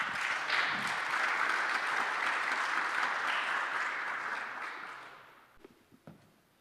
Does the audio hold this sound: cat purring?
no